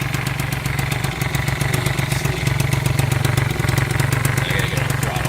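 A motorcycle fitted with a Razz big bore kit idles close to the exhaust, a steady loud rumble with rapid regular pulses throughout.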